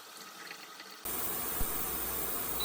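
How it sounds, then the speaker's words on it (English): Boiling water poured over chopsticks and a small bowl, a sudden steady splashing rush that starts after a second of quiet and continues evenly to the end, with one faint knock. "Pour boiling water to the utensils and leave them until they get"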